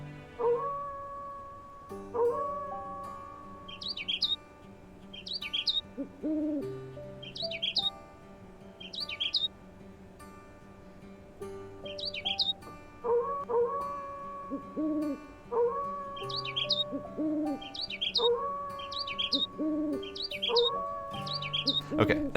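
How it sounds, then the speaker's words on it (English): Bird calls and owl-like hoots from the menus of the video game Forest Ranger Simulator, repeated short chirps and tonal hoots over a looping musical backdrop, moderately loud with no talking. "I can trigger the bird sounds because when you mouse over all the menus, I can make Ace's cat go nuts."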